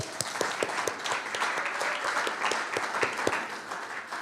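A crowd applauds steadily with dense clapping throughout, moderately loud and sustained without any talking.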